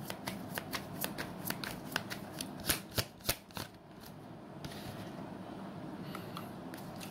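Tarot cards are riffle-shuffled close by in a quick run of crisp, evenly spaced snaps that end with a few louder slaps, followed by a quiet pause and faint handling rustle.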